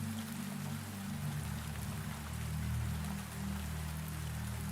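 Steady rain falls on a dark, shining garden, a soft continuous patter of drops under a low droning hum, with no voices.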